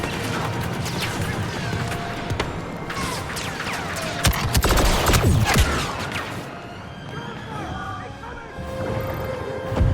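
Battlefield noise from Star Wars Battlefront II: a grenade blast and bursts of gunfire crash and rattle up close, with loud booms and continuous firing over several seconds.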